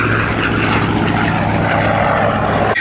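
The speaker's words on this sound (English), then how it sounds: "the 2100 horsepower Pratt & Whitney Double Wasp, which powers this aeroplane to a top speed in excess of 420 miles an hour" Grumman F8F Bearcat fighter with its 2100 horsepower Pratt & Whitney Double Wasp radial engine droning loudly and steadily, a close, continuous propeller roar with a deep even tone.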